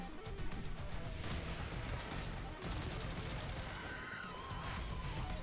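Weapon fire aimed at a target in the Warframe video game, steady dense bursts of shots running through the whole stretch over a constant game soundtrack, with faint voices now and then.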